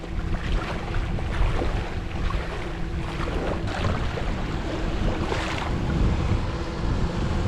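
A Ford Explorer pushes through a road flooded by the sea, leaving an uninhabited island: a steady, loud wash of water and engine rumble with constant wind buffeting throughout, no voices.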